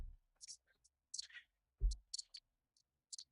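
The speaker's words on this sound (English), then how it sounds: "how do you make those clicking sounds?" Sharp mouth clicks made by a person, a quick irregular series of crisp pops in near silence, with one low thump partway through.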